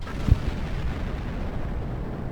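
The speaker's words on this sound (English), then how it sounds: "Explosions still look very nice." Explosions in the space video game Star Trek Online: a sharp burst followed by a deep, rumbling low boom that lingers steadily without any talk.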